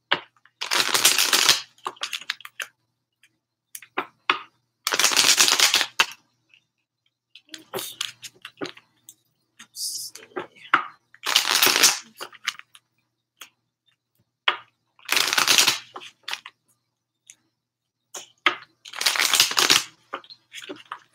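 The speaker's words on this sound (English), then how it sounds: "Oh, I'm shuffling this." Tarot cards being shuffled by hand, a series of crisp riffling bursts every few seconds with quieter card handling and taps between them, close to the microphone.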